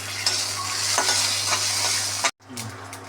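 Mustard seeds, fenugreek, curry leaves and garlic fry in oil in a kadai for a bitter gourd kuzhambu. A close, steady sizzle runs with occasional stirring scrapes, breaks off sharply, then resumes more softly.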